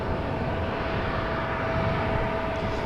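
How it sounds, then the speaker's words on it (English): A Chinese airline Boeing 777 takes off at Amsterdam Schiphol, a loud, steady roar of jet engines with a faint high whine, continuous and unbroken, heard from nearby outdoors. "Bloody Chinese triple taking off from the wrong runway"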